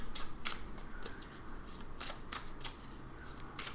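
Tarot cards are shuffled and drawn by hand, soft close riffling bursts and quick papery flicks at irregular intervals over a quiet room.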